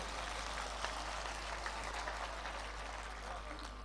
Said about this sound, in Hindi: एक बार आप मुझे हाथ ऊपर करके ताली बजाकर बताइए कि अब इस कवि सम्मेलन को शुरू किया जाए